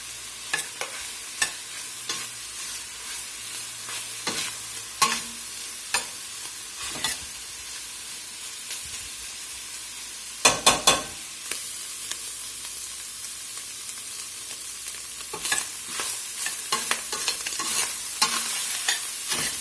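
Hamburger soup with blackening seasoning sizzles in a pot over medium-high heat, a steady fry under repeated sharp clicks and scrapes of stirring utensils.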